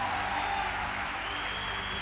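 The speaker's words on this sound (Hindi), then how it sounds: "तालियां तो भारत की नंबर 1 कंपनी के मालिक के लिए जोरदार बजनी चाहिए।" An audience at a Vestige women's gathering claps steadily for the company's owner, forming a dense, even wash of applause across the brief moment with no clear voices.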